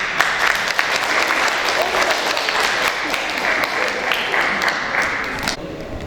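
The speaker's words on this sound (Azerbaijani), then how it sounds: "Bunlar da alqışlayaq." An audience at a closing ceremony applauds, a dense, steady wash of clapping from many hands that carries on throughout and thins slightly near the end, with a voice audible over it.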